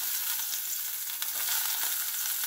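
Ginger sizzling in hot olive oil in a pan, a steady close crackling fry with faint stirring and no talk over it.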